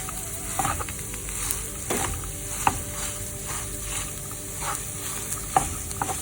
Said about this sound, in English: Mix them all together.